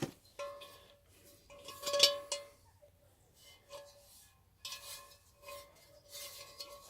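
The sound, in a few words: Dutch oven pot being handled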